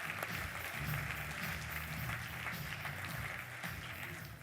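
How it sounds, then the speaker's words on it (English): A conference audience applauds the event's silver sponsors. Dense, steady clapping from a large crowd fills a big hall, with a low murmur underneath. "applause for our silver sponsors"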